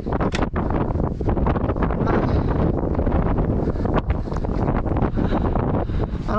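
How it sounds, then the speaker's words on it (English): Wind roars into the microphone while someone rides an ebike, a loud, steady buffeting rumble with gusty fluctuations that lasts throughout and drowns out other detail. "don't know if you guys can hear me with the wind"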